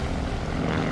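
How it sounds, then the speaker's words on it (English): Propeller aircraft in the Call of Duty Vanguard campaign roaring overhead, a loud, dense, continuous engine drone filling a one-second stretch without speech. "Oh, that's not good. That's a plane."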